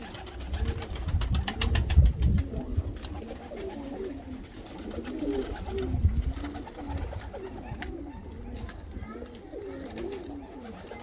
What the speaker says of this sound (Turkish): Kuşlar dünden beri kutuda arkadaşlar.